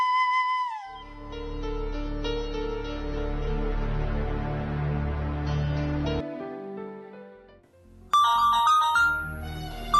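A phone's ringtone melody plays on its own, bright repeating tones over a fuller backing, then a sharper higher chime cuts in near the end.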